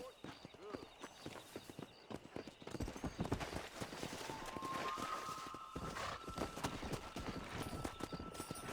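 Horse hooves clip-clopping at a steady gallop while riding in the Red Dead Redemption video game, close and rhythmic, with a whinny, game voices talking over the hoofbeats and a sustained tone partway through.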